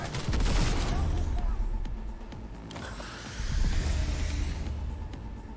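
Tech pistol gunfire in the Cyberpunk video game, a dense, loud run of shots crackling over continuous action noise, with a second burst near the end.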